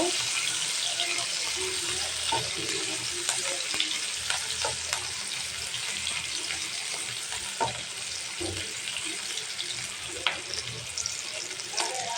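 Chopped onions frying in hot oil after fish has been cooked in it, a loud continuous crackling sizzle with occasional stirring scrapes and clinks throughout.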